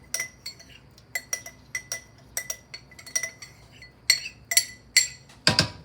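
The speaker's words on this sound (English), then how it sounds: "I'm going to add that to my pot." Utensils clink repeatedly against a pot as pizza soup mixture is added, a run of sharp metallic taps that grow louder and denser toward the end, finishing with a fuller scraping knock.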